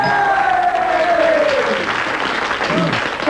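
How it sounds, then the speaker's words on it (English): Quiz show studio audience applauding and cheering loudly after a correct answer, a steady wash of clapping with a rising whistle-like tone at the start, continuous throughout. "a roaring cheer from your friends there"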